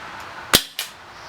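An Umarex Walther SG9000 CO2 BB shotgun in burst mode fires two sharp, close cracks in quick succession, the first louder, followed by quiet room tone.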